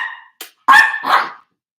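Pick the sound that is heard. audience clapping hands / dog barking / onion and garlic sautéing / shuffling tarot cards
dog barking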